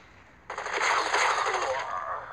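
Rapid automatic gunfire in the mobile shooter Blitz Brigade, a sudden burst that continues as a dense, loud rattling stream for about two seconds.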